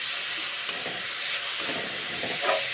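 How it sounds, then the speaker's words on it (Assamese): Wild greens frying in a pan, a steady close hiss and sizzle with faint scraping stirs, no talk. "এতিয়া ভাজা হৈছে শাকখিনি, এয়া তলত লাগি গৈছে"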